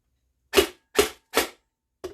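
Airsoft gun with the front end of its suppressor removed, firing four sharp close shots, three in quick succession and a fourth after a short pause, in an otherwise quiet room.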